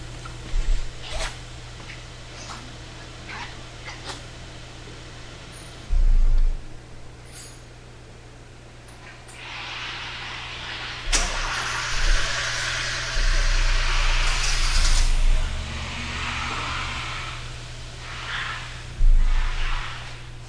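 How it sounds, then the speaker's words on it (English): A 2013 Hyundai Veloster with a stalling fault being cranked: a brief starter whir, then a rising, rough broadband engine roar that holds for several seconds, with soft clicks and handling noises nearby. "let me crank the vehicle"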